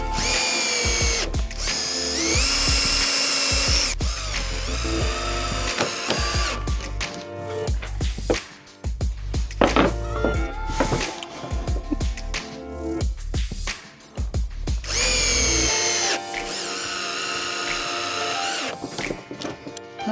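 A power drill drives 4x50 screws into a cheap homemade Starlink Gen 3 mount. It sounds as loud, close whirring bursts that rise and stop, with a long run near the start and another toward the end, and no talk.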